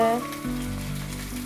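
Onions, curry leaves and green chillies frying in a pan, a steady close sizzle with a brief stir sound at the start and a continuous hiss throughout, no talking.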